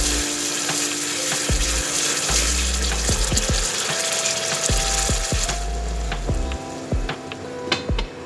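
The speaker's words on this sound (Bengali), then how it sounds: "টমেটোটা দেওয়ার পর হাই ফ্লেমে 2 থেকে 3 মিনিট মশলাটা কষাতে হবে।" Tomato masala for paneer changezi sautéed on high flame, a steady loud sizzle with repeated scraping and stirring knocks of the spoon against the pan throughout, no talking.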